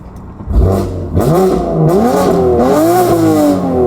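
A BMW M4 with newly installed downpipes revs hard, its exhaust rising and falling through several loud, raspy pulls up close with no burbles, running continuously throughout.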